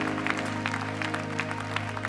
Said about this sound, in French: Nos acclamations, c'est pour vous encourager.